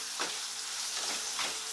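Chicken and ramen stirred with a fork in a sizzling pan, a constant soft hiss of frying with a few brief scraping swishes as the food is mixed, no talking.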